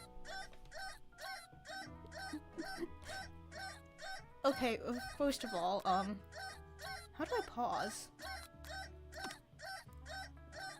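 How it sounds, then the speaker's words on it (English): A video game alarm clock ticks in a fast, even rhythm that runs the whole way through, while a person talks over the middle part. "Smack that clock."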